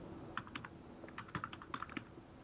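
Quick bursts of keystrokes on a computer keyboard as a name is entered into an online voter ID application form, light clicky taps in short irregular runs, close and quiet with no voices.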